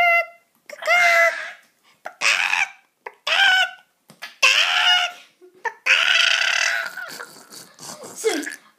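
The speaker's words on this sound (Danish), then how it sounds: "Der er mange kyllinger." Minecraft chickens cluck in short, repeated bursts with gaps between, close and clear, while a voice or two chimes in briefly.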